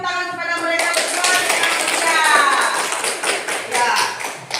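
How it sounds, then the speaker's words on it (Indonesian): A group claps briefly after a voice speaks, the applause a dense patter that fades back under continued talk. "mari kita beri tepuk tangan kepada mereka berdua."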